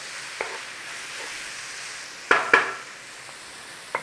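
Paprika is stirred into a sausage stroganoff in a pan under a low steady simmer, with a few sharp clacks and scrapes of the utensil against the pan.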